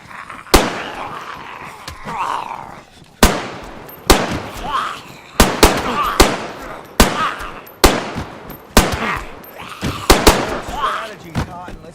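AK rifle shots ring out in a video game, sharp single cracks and short bursts spaced irregularly, loud and close, while a voice keeps talking underneath between the shots.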